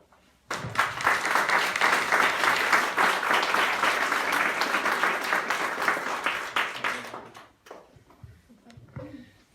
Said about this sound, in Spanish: un gran aplauso para los traductores